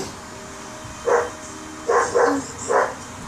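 Four short, bright dog barks in the game Crisis Action, roughly evenly spaced after a brief pause, over a low steady background hum; they sound slightly synthetic and mid-distance.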